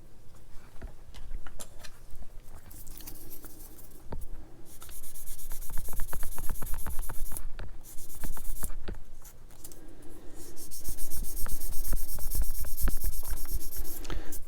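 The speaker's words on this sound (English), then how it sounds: "Let the sander do the work, not you." Plastic parts of a Tamiya LaFerrari model kit are worked with a sander, giving rapid scratchy rasping strokes in irregular bursts, close and fairly loud, with brief pauses between passes.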